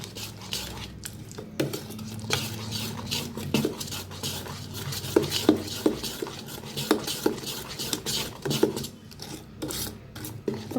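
A spoon scrapes and rasps steadily against a bowl while appe batter is stirred with chopped onion and green chilli, a close, continuous scraping with small clinks throughout.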